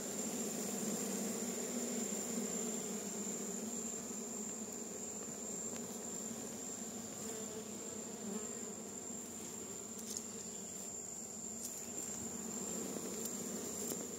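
A populous honeybee swarm in an open hive during a colony split hums continuously and steadily, close and even throughout, with no voices.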